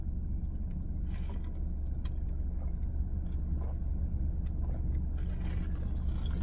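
A car rolls past outdoors, a steady low engine rumble and road noise that stays fairly constant, with faint scattered clicks and rustles on top.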